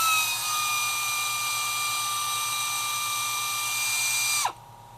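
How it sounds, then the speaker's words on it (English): A power tool spins an 18mm socket against the caliper bracket bolts on a 2010-2014 Chrysler 200, whining loudly and steadily at close range for about four seconds before winding down and cutting off. "Now I'm going to be using the 18mm to get the caliper bracket off."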